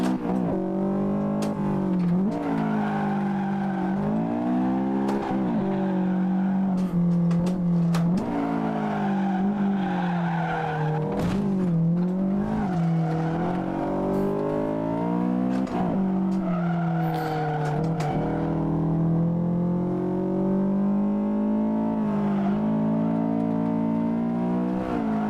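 A race car in the Assetto Corsa driving game, its engine droning and rising and falling in pitch as it revs through gears, with repeated tire squeals and skids layered over the steady motor, no talking.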